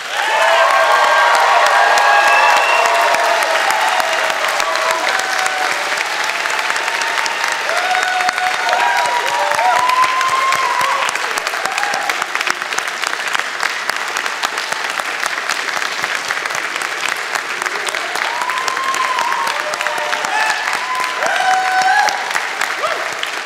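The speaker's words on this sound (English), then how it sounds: "Graduates, a round of applause for the faculty." Graduates at a spring convocation ceremony give the faculty a sustained round of applause, a dense, loud wash of many hands clapping with scattered cheers and crowd voices throughout.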